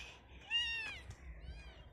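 A single drawn-out cat meow, fairly faint, followed by a softer second mew against a low background rumble.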